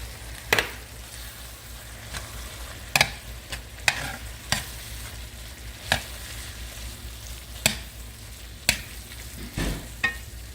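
Beef and gravy mixture for shepherd's pie stirred in a pan, a quiet background sizzle punctuated by repeated sharp spoon scrapes and knocks at irregular intervals, no speech.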